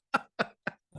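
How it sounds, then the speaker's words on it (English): A man coughs four times in quick succession, short sharp bursts close to the microphone with brief silences between them. "So sorry, I have a cough."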